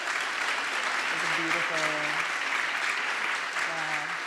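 An audience claps after a performance at a live poetry and music evening, steady crowd applause with a voice speaking over it.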